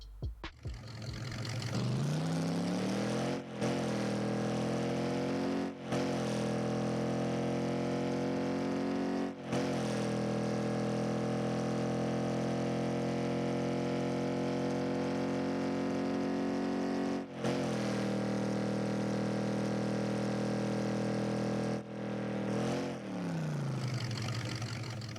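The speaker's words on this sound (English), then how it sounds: "Here's a full demo of the engine audio." A Rocket League car engine, the Fast & Furious Ice Charger, idles with a steady harmonic drone, briefly revving up several times with short cutoffs, loud and close throughout.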